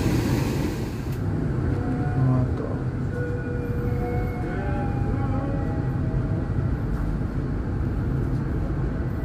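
The Serayu passenger train, a locomotive hauling a dining car and power car, passes near Banjar station with a continuous low rumble and steady rolling noise, faint squealing tones drifting through, no voices.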